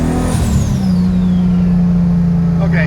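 A car with a Toyota 2JZ engine and a twin-disc clutch pulls away from a dead stop, its engine a loud, close, steady low drone that holds an even pitch after a brief shift in tone early on.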